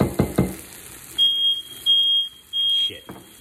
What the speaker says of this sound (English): The smoke alarms, they constantly go off, man.